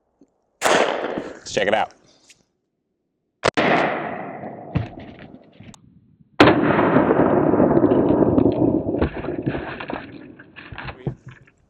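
Suppressed Glock 21 pistol with a Small Arms Tech can firing 230-grain Federal .45 ACP ball ammo during a rifle-rated armor test: three loud, sharp shots spaced a few seconds apart, each with a lingering decay, and a brief voice speaks between them.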